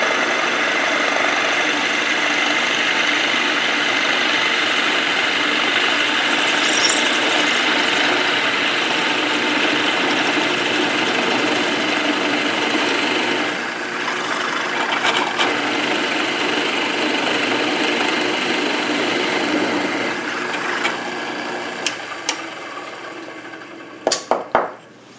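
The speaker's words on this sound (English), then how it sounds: "So there's my 3/4 inch hole drilled exactly the way it should be." A drill bores a 3/4 inch hole to a depth of 1 1/8 inches in a workpiece for a spin top, whirring steadily for over twenty seconds before a few sharp clicks as it stops.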